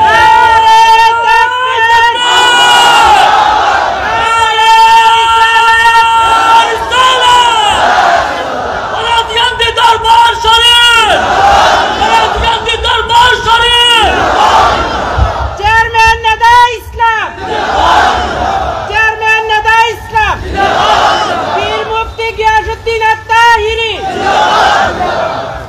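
A large crowd at an Islamic religious sermon gathering shouts a religious slogan in unison, loud repeated chanted phrases in rhythmic waves with short pauses between, close and filling the space.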